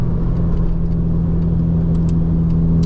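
A 350whp widebody Acura RSX cruises steadily, its engine producing a constant low drone with road and tire noise throughout, heard from inside the car with no talking.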